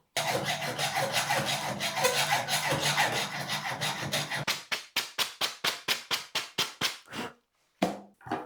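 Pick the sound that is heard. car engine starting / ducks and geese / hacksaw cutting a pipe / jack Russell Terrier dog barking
hacksaw cutting a pipe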